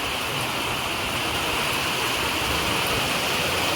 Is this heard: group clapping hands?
no